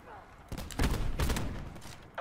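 Sniper rifle trick-shot fire in Call of Duty: Black Ops 4, with sharp, loud gunshot bursts and rumbling game action across the short span, mixed with a player's voice.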